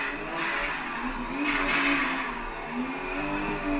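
Race car engine in the Assetto Corsa driving game on a custom drifting simulator, a sustained loud engine drone whose pitch rises and drops through upshifts, with tire noise underneath.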